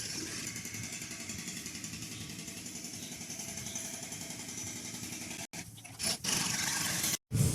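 Many motor scooters crowd a street crossing in Nha Trang, Vietnam, with a dense, continuous drone of small engines close by and a few brief dropouts near the end.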